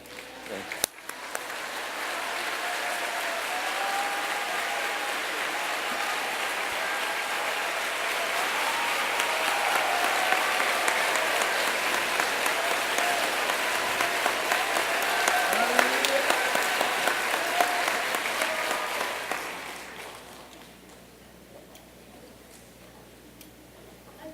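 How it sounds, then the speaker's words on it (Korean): Church congregation applauding as the pastor comes out during a fasting revival worship service, a steady, dense wash of clapping lasting about twenty seconds before fading into quiet room tone. "우리 다 같이 일어나셔서 또 박수로 환영하겠습니다"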